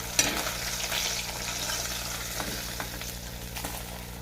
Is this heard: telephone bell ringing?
no